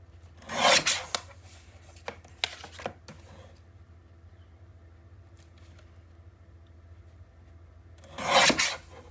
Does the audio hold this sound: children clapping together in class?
no